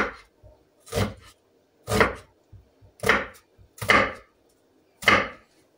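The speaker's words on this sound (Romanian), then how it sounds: "O să tăiem și ceapa și morcovii și ardei." Knife chopping onions, carrots and peppers on a wooden board for bean soup: six slow, evenly spaced crisp chops, close and clear.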